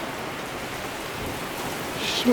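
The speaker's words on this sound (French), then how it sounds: "Et regardez jusqu'où il pleut." Steady, dense storm rain hisses continuously, a broad wash of drops falling without pause.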